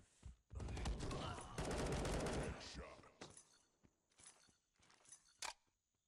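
Bursts of gunfire and a grenade blast in the mobile online shooter Modern Ops, with a dense volley of rapid shots, then a quieter stretch of scattered single reports and mechanical clicks, with faint talk underneath.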